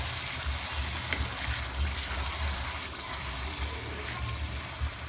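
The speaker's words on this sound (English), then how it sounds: "so this is the fish stock. I'm adding that since I need water" Fish stock poured into a cooking pot on the stove, a steady close liquid pour with a continuous low gurgling rush running through the whole moment, no voices.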